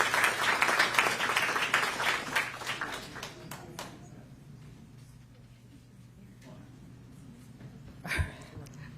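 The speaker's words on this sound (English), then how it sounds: "one more round of applause for our employees." Applause at a school board meeting, a crowd clapping loudly at first then fading out over a few seconds, followed by quiet room tone and a brief thump.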